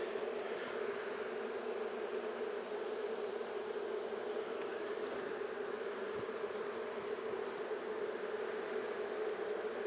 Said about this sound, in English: that buzzing loud like that is what some people would say could indicate queenlessness.